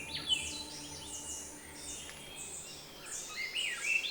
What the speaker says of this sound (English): the sun is greeted by a multitude of bird songs.